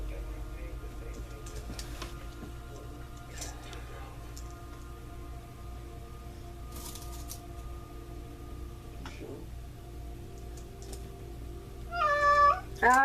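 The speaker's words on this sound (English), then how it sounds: "Sorry, that's my cat." A house cat meows at the end, loud and close, with a couple of wavering cries over faint background hum and sparse ticking, after a quiet stretch.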